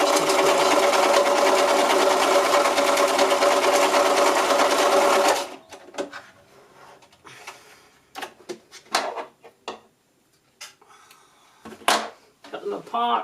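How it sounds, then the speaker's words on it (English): A sewing machine stitching patchwork squares for a cushion front runs in a loud, steady whir for about five seconds, then stops, leaving scattered handling clicks and knocks of fabric and parts. "stitch them together. So just go a couple of stitches past the end of the first 2 squares, and then carry on stitching on the next 2 squares"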